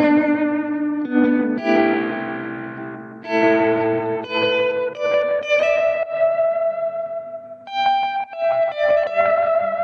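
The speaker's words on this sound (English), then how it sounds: "I brought in the fuzz distortion of the pedal for something a little crazy." Fuzz distortion from an EHX Attack Decay effects pedal on a played instrument, with sustained harmonic-rich notes swelling and changing in pitch over about ten seconds, loud and saturated with no talking.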